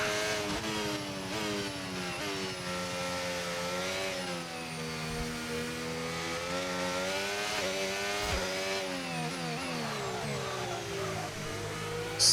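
A Formula 1 race car engine in the F1 25 video game drones at high revs throughout, its pitch rising and dipping with shifts and braking, loud and continuous with no talk.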